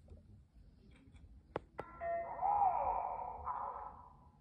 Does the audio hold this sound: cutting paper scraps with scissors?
no